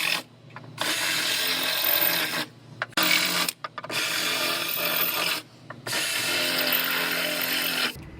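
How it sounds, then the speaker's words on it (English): A power drill bores out spot welds through the top layer of a car's sheet-metal floor, running in three long loud bursts with short pauses between them, each a steady grinding whine at close range. "So I'm gonna drill these out first."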